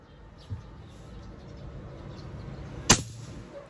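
A semi-automatic PCP air gun fires a single sharp crack, one near and loud shot standing out from quiet background.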